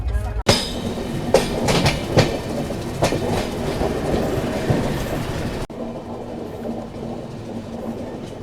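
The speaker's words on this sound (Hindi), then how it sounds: "तो अभी अपनी ट्रेन आकर रुक गई है कसारा रेलवे स्टेशन पे।" Mumbai Patna Suvidha Express passenger train rolling along and then halting at Kasara station, heard from inside the coach as a rumbling clatter with a few sharp rail jolts, followed by a quieter, steady hum after stopping.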